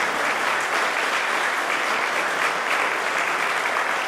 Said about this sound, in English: Stand up and get a round of applause for that, for the centennial.